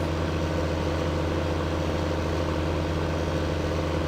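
A tractor engine in the farming video game Farming Simulator 15 drones steadily at a constant idle-like pitch, a loud, unbroken low hum with layered harmonics and no talking.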